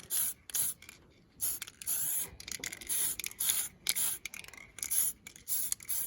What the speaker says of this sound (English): start spraying some black on here and just light